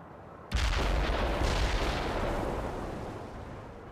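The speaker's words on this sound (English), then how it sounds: "Target pinpointed. Commence artillery fire." Artillery barrage in the World in Conflict video game: a sudden heavy boom bursts in after a brief quiet, then a dense rumbling roll of blasts that slowly fades, loud and close.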